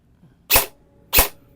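A budget Poseidon Theseus AEG airsoft rifle fires two sharp, separate shots about half a second apart, loud and close in otherwise quiet surroundings.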